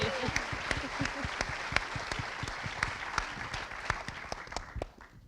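Applause from an awards evening audience celebrating Top 30 under 30 winners, a steady dense clatter of clapping that rolls on for several seconds before thinning out at the end, with faint voices underneath.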